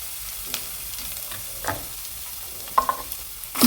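Ginger frying in hot oil in a pan for a Kerala-style kora fish curry, a soft steady sizzle with occasional stirring clinks and scrapes, quiet and close with no talking.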